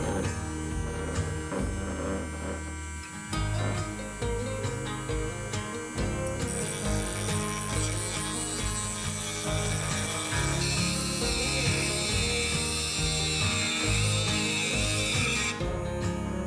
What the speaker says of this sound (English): you're gonna take your Dremel or your hacksaw, whatever you wanna use, and you're just gonna cut it down nice and smooth